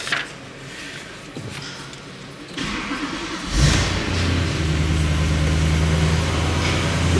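A cold BMW E92 M3 with the 4.0 V8 and DCT gearbox cranks and fires, catching with a loud flare around the middle of the clip and then settling into a steady, rumbling idle close by.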